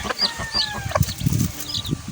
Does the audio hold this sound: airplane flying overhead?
no